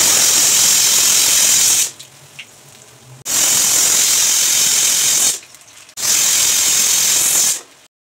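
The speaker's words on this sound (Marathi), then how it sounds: "आता कुकरचे झाकण लावून 3 शिट्टी करून घ्यायची आहे। तर शिट्टी मी तुमच्या समोर करून दाखवते।" A pressure cooker on the stove, cooking keema, lets out three loud, steady hissing whistles, each lasting a couple of seconds, separated by short quiet gaps.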